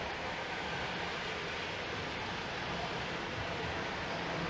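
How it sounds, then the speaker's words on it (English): A southbound subway train arrives at Davisville Station in Toronto, a steady broadband rumble and rush filling the platform at moderate, even volume throughout, with no talk. "as the train rolls in, heading southbound."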